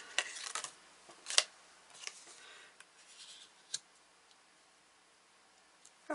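Tarot cards from the Light Seer's Tarot deck are shuffled in a quiet room, with soft scattered flicks and riffles, a few sharper snaps, then brief near-silence.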